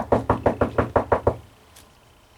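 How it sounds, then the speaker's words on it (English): Seven loud, evenly spaced knocks on a wooden farmhouse door, close and sharp, each ringing out briefly before the pounding stops and a quiet pause follows. "Mr. Speevie knocked loudly."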